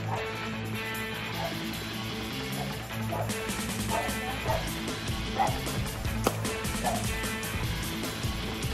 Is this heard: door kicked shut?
no